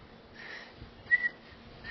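A human voice imitates a faint, breathy blowing-air whistle, a soft airy hiss with a brief thin tonal peak near the middle, quiet and close.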